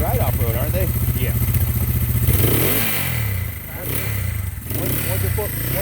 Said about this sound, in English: That motor sounds good.